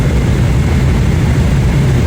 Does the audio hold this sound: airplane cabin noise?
yes